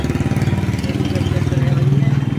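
A New Holland 4010 tractor engine runs with a steady low, throbbing idle at a tractor market, close and fairly loud, with someone speaking over it throughout.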